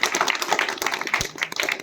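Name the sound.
audience applause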